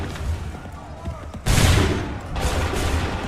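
Musket volleys in Assassin's Creed III gameplay, with two loud, ragged bursts of massed gunfire roughly a second apart over a background of battle noise.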